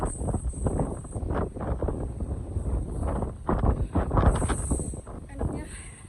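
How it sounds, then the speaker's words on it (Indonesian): Strong gusting wind buffets the microphone on a foggy, rainy hike along Dragon's Back, loud and continuous with surging rushes. "Oh, kencang anginnya guys."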